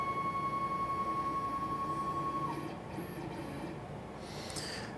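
A KX:24 desktop CNC router jogs an axis in continuous mode, a steady whining stepper tone for a couple of seconds that stops, followed by quieter mechanical shuffles.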